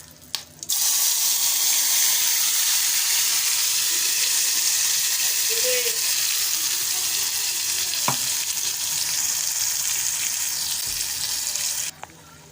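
Spice paste and a generous amount of curry leaves fry steadily in hot oil on low heat for a toll fish curry, a loud continuous sizzle that holds nearly unbroken, with a couple of brief clicks of a utensil.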